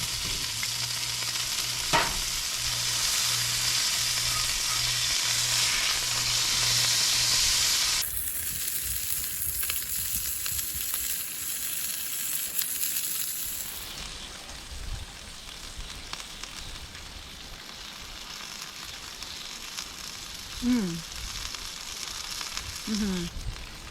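A Wagyu burger sizzles on a camp stove by a lake, a steady close frying hiss that shifts in tone and texture partway through and continues without talk.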